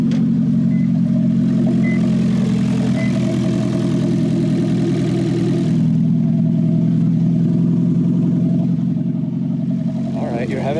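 A Toyota Prius with its catalytic converter stolen runs with a loud, droning exhaust, a steady low rumble throughout, with a person talking over it.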